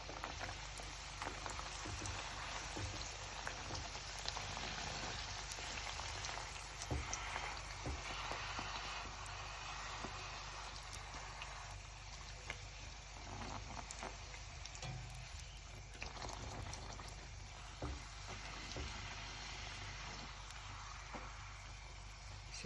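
Mauritian suji puri bubbling and frying in very hot oil, a steady dense crackle and hiss that holds close and even throughout, with no talk.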